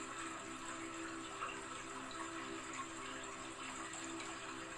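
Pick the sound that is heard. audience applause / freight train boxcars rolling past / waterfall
waterfall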